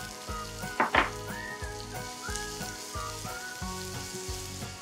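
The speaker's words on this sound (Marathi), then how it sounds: "हलकासा सोनेरी रंग येईपर्यंत कांदा परतून घेऊया" Finely chopped onion sizzles in hot oil with garlic and asafoetida, a soft steady frying hiss with a couple of sharp clatters from stirring early on, heard alone under a faint background musical tone.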